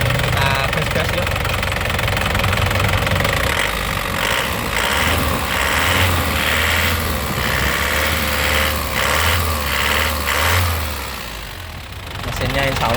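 A black 2008 Mazda GT car engine, original and in stock factory condition, revs steadily and loudly in rising and falling surges over a continuous idle-like hum, with no one speaking during the clip.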